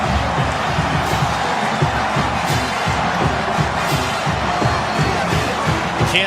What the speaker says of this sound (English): This crowd is rowdy.